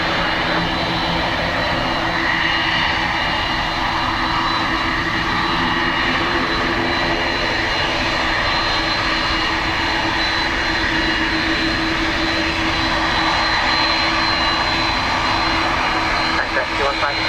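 Boeing 767-300 jet engines roar steadily at Dublin Airport on a windy, wet day, a loud continuous broadband rumble that holds level throughout, with radio chatter from air traffic control mixed faintly underneath.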